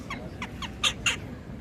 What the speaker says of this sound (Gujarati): કાગડો ભાઈ જો